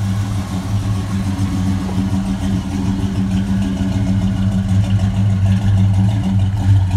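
A carbureted LS 5.3 V8 swapped into a 1970 vehicle runs steadily, a loud, close, low rumbling idle with a slight rhythmic lope throughout and no talking.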